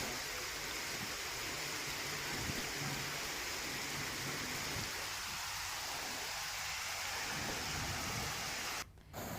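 Heavy monsoon rain pours around Bet Dwarka temple, where water runs like a river along the road; a loud, dense, unbroken roar of rain and rushing water fills the whole stretch, briefly dipping near the end.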